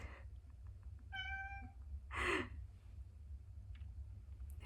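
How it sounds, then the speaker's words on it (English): A cat meows indoors twice: one drawn-out, tonal meow and then a shorter breathy cry, both fairly close over a low steady background hum, with no talking. "There's a cat taking up space and meowing."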